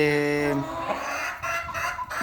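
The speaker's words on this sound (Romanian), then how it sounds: "am adus un cocoș de Brahma, un cocoș pe albastru foarte masiv" A massive blue Brahma rooster's drawn-out crow rings out, followed by softer clucking and rustling nearby.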